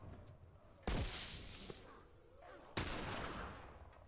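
Two loud, sharp gunshots ring out in The Last of Us, about two seconds apart, each followed by a lingering, rumbling echo over low game ambience.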